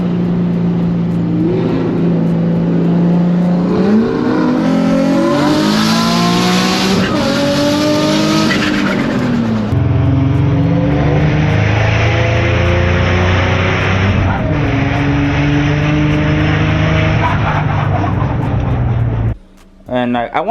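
A tuned Nissan 350Z with a VQ engine making over 500 wheel horsepower races a Lamborghini Huracan, engines roaring loud and close as the pitch climbs through repeated gear pulls, with a sharp shift in tone midway.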